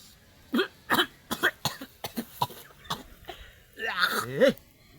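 A series of harsh, close coughs in quick succession, about eight or nine bursts, followed by a strained vocal sound at the end.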